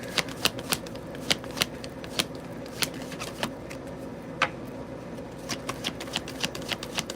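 Tarot cards are shuffled by hand in a quiet room, a steady run of crisp riffling snaps and flicks, close and clear with no talking.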